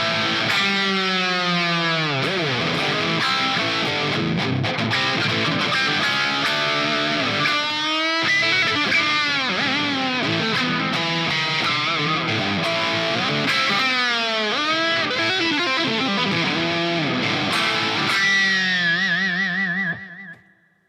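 A distorted electric guitar played through effects plays continuous, aggressive riffs with bite for about twenty seconds, loud and up close, then rings out and stops abruptly at the end.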